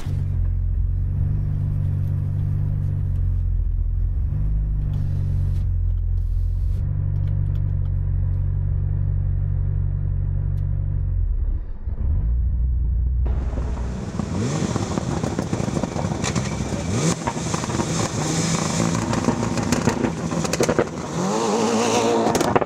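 A Mitsubishi car engine, in a run between a Mitsubishi Eclipse and a Lancer Evo 9, rumbles at a low steady idle, then revs hard into a loud, raspy, bright roar that holds to the end.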